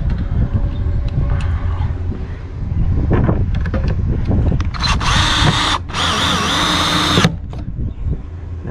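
A power drill drives a fastener on an RV Lend-A-Hand Extended Assist Rail at the door, whirring in short bursts close to the microphone, with a longer high-pitched run near the end amid some wind noise.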